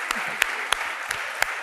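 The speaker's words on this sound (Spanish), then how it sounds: "un aplauso para el" An audience applauds to welcome a guest speaker at a book event, a steady wash of clapping with a few sharp individual claps standing out.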